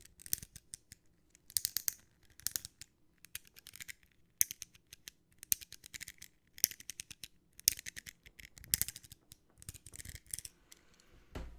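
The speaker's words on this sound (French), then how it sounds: "Petit trigger cutter au micro." Close to the microphone, a box cutter works at opening a Pokémon tin cube, making quiet, irregular bursts of sharp clicks, scrapes and ratcheting ticks separated by short silences.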